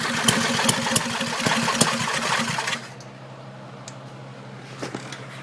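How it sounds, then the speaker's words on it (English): An 8HP Briggs and Stratton engine on a Powermate 3250 generator, running rich, chugs with a loud rhythmic pulse and then abruptly drops off, leaving a faint low hum and a few clicks. "I know it's running rich."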